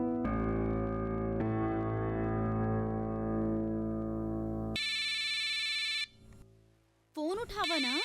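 A phone ringtone plays loud and close as a steady, sustained electronic tone that switches to a higher, buzzier pattern midway, followed by a voice speaking.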